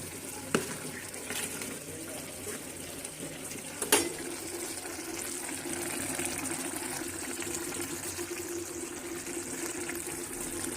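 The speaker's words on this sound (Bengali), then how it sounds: "এখন আমি এই যে তরকারিটা জল দিয়ে নিয়েছিলাম, ভালোভাবে বলক উঠতেছে।" A pot of curry with snakehead fish, spinach and potatoes bubbles at a steady boil, a continuous close hiss and gurgle with a couple of sharp clinks from a utensil.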